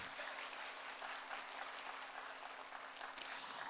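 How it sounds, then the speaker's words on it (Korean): Steady applause from an audience after a Korean drumming performance at an opening ceremony, sustained, quiet and distant, with a faint hum beneath it. "여러분 더 큰 박수 부탁드리겠습니다"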